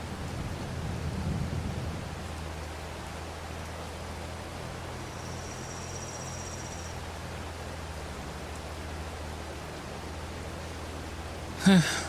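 Steady rain falling in Farming Simulator 22 on the East Vineland map, a constant hiss of broadband noise with a low rumble underneath, heard alone through the whole stretch before a brief thump near the end.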